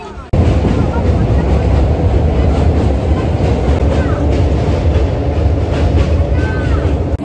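A Maa Tara Express passenger train from Sealdah to Rampurhat rumbles along, loud and continuous, with a heavy low roar and faint rattling throughout.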